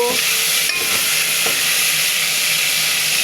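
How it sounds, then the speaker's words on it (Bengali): Cumin seeds, ginger, garlic and onion sizzle loudly in a hot pot on the stove, a dense, constant frying hiss with faint stirring clicks and no voices. "চুলায় হাঁড়ি দিয়েছি জিরার ফোড়ন দিয়েছি আদা রসুন পেঁয়াজ দিয়ে দিচ্ছি"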